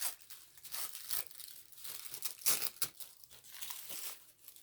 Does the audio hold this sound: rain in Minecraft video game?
no